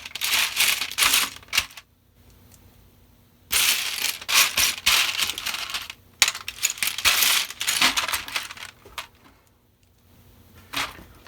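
Plastic building bricks, a cheaper imitation brand, clatter and click while a submarine model is assembled, dense bursts of rattling and snapping broken by short pauses, close and fairly loud with no talking.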